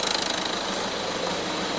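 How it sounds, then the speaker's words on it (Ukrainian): A Peugeot 3008 car engine idling steadily after starting, heard close up as a continuous broadband mechanical drone with a rapid rhythmic pulsing, running alone without talk. "Візуально працює двигун нормально"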